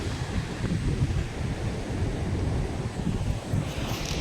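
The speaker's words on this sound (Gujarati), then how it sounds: "મજા ને મોજા મસ્ત આયલા આવે છે" Sea waves washing onto Mangrol beach on the Gujarat coast, a steady broadband surf roar mixed with wind buffeting the microphone, continuous and fairly close with no voices.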